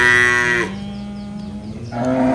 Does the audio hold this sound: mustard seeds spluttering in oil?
no